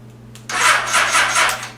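A 1973 Honda CB750 motorcycle engine cranks on the starter with the choke on, a loud steady churning whir that begins abruptly after a short quiet moment and continues evenly to the end.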